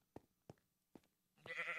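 A sheep in the Minecraft video game starts a wavering bleat near the end, after three short soft thumps, close and without any voices.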